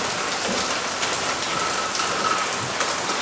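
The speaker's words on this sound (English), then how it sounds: "It is raining hard in here." Heavy rain pours down steadily indoors, a dense continuous hiss of drops hitting surfaces, loud and even throughout with no voices.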